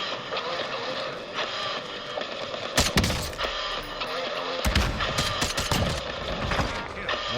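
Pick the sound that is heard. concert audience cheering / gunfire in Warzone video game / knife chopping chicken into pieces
gunfire in Warzone video game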